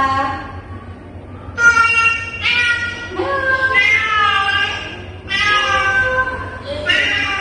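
A child imitates a cat's meow with several drawn-out, wavering vocal mews in a row during a classroom lesson, the calls loud and close with quieter room murmur underneath.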